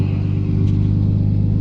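A car engine idles just after start-up, a steady low rumbling hum with a faint pulsing rhythm, close and continuous with no voices over it.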